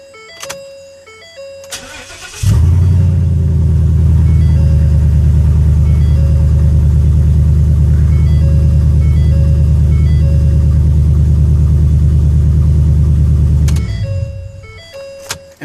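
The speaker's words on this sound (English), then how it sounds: "as you can see, the vehicle starts" Ford 6.2 Super Duty pickup truck engine cranking over after a no-start problem, catching with a loud roar and then settling into a steady, deep idle, with dashboard warning chimes before and after.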